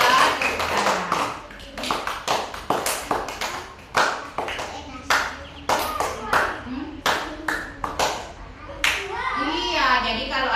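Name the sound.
children clapping hands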